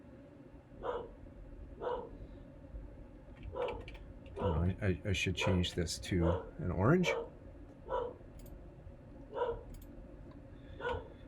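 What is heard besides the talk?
dog barking in the background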